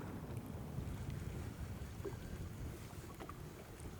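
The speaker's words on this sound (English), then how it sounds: "The wind is picking up. There's a lot more wind now than yesterday." Steady wind roars over open water from a fishing boat out after pike, a constant low rush with microphone buffeting and faint lapping waves throughout, no voices.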